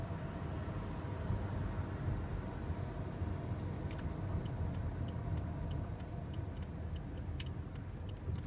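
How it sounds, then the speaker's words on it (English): A car rumbles steadily from inside the cabin while being parked, with a low engine and road hum and a faint rhythmic ticking like a turn signal partway through, no voices. "All right, I'm parking my car right now."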